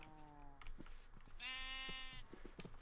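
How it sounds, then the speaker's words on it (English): Minecraft sheep bleat in a game, a short harmonic bleat rising out of background game sounds with other clicks and tones around it. "The sheep shouldn't be able to get out. They're too tall."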